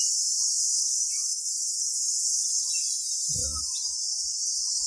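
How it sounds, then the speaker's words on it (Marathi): Crickets trill in a Konkan coastal village at early morning, a steady high, unbroken chirring that fills the background, with a brief low thump partway through. "रातकिड्यांचा आवाज."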